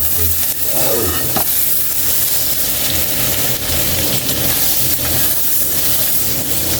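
Butter melting and sizzling in a hot wok for chicken wings, a loud steady frying hiss with light stirring scrapes running throughout, close and continuous.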